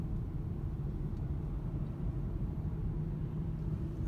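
Car driving into French Park, a steady low engine and road rumble heard from inside the cabin, constant and fairly quiet with no talking.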